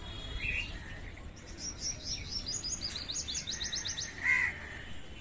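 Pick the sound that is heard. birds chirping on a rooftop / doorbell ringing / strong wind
birds chirping on a rooftop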